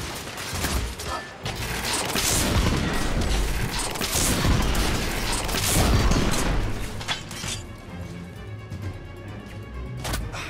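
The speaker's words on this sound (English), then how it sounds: "PS29 cannon." PS29 cannon fire in The Order: 1886: bursts of heavy booms and mechanical clanks build into a dense barrage, then fade to scattered shots and whirring.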